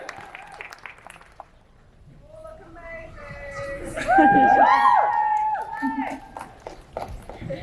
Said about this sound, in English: Can we another big round of applause for our winners today?